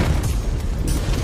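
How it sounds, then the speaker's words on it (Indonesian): A film explosion roars as a dense, rumbling boom that fills the whole moment, loud and sustained with a brief brighter burst near the end. "dan meledak"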